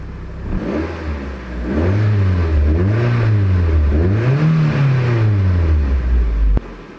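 A Japan-spec Mazda MX-5 Turbo engine revs several times in a row, deep and throaty, each blip rising and falling before cutting off sharply near the end.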